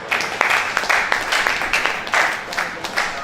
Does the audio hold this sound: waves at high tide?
no